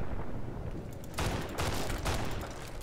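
A backup gun fires in Fallout: New Vegas during a fight with super mutants, with several sharp bursts of gunfire cracking out over a rumbling background, alone with no talking.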